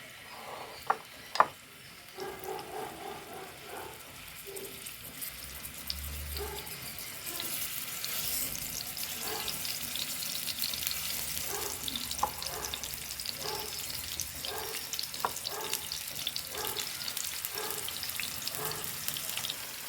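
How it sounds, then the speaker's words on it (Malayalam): Masala-coated chicken fries in a pan with a steady close sizzle that swells after the pieces go in, punctuated by a few sharp clatters of utensils near the start. "ഇനി ഇതിലേക്ക് ഞാൻ ചിക്കൻ എടുത്തിട്ട് കൊടുക്കുന്നുണ്ട്"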